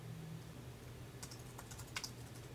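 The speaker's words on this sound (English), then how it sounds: "First, type in the text that you would like to make clickable." Typing on a computer keyboard, a short burst of light, quick key clicks near the microphone, sparse at first and then several taps close together, faint and alone over a low hum.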